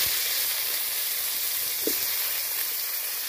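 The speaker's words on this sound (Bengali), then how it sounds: "এখন মাছ ভাজা তেলের উপরে আমি ফুলকপিগুলো দিয়ে" Cauliflower florets frying in oil left over from frying fish, a steady bright sizzle and hiss in a pan, close and continuous with no talk.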